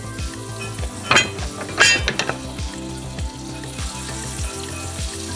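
A tablespoon of butter sizzles and crackles in a pan over medium heat, a steady close frying hiss with a few brighter spatters and light utensil clinks, no voices.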